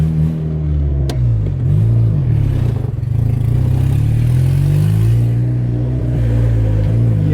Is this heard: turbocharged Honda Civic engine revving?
yes